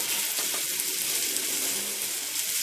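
Buttered low carb bread from The Protein Bread Co sizzles butter side down in a hot pan, a loud, dense, continuous frying hiss held steady from start to finish.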